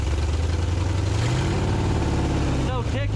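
A 1978 Chevy engine idling with large holes in its exhaust, a loud, close, rough low rumble that rises slightly in pitch partway through, with a brief voice near the end.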